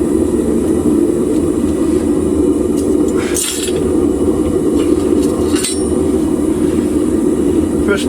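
A new propane furnace roars loudly and continuously while melting aluminium, a dense close rumbling hiss with a couple of brief sharp knocks on top.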